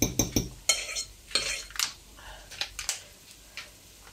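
Soft scraping and tapping of a utensil pressing fresh goat cheese into a chunky purée in a bowl, a string of quick, close strokes and clicks with no voices.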